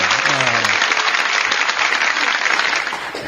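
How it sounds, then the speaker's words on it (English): Audience applause in a small theatre, Elkhart Civic Theatre's Bristol Opera House: a lively round of clapping, steady and fairly loud for a few seconds, with a brief voice heard at the start. "let's have a round of applause for Jill."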